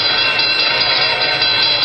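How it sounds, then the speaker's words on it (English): Train rolling past a railroad junction beside Oklahoma tracks, a steady broadband rumble and hiss with no distinct clacks or horn, loud and continuous throughout. "to let a train pass by"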